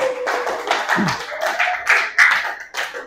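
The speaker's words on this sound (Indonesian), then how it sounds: "tepuk tangan untuk Nada" Classroom clapping for a student after she finishes reading, a quick ragged burst of hands from a small group, fairly close, with children's voices chattering over it.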